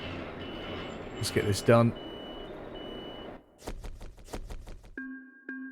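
A truck reversing in the driving game Euro Truck Simulator 2, a brief speech passage followed by a fast regular series of sharp electronic beeps, then a steady tone, all clear and close.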